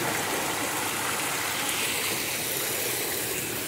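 Rocky stream water flowing steadily at the intake of a hydraulic ram pump, a continuous loud rushing wash close by with no pauses or voices.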